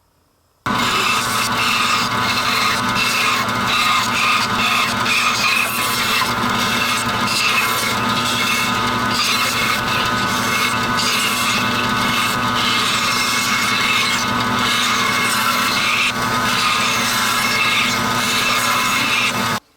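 A saw fitted with a quarter-inch blade cuts wood for a stool, giving a steady, loud, close rasping and whirring drone that runs unbroken for almost the whole stretch, with no voices.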